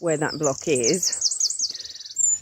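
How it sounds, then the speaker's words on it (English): A noisy bird chirps outdoors in a rapid, trilling run of high tweets, rising under and after a man's speech. "There's a noisy bird there, that's lovely."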